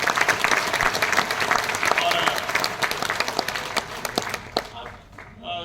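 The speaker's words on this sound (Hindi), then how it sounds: "तीसरा है ताली बजाते रहेंगे" A large seminar audience in Ahmedabad breaks into sustained, dense applause that stays loud, then thins out and fades to scattered claps, with some voices over it.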